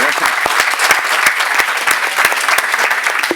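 Audience at a conference on the Sustainable Development Goals applauding, a dense burst of clapping with sharp individual claps standing out, loud and close, lasting several seconds.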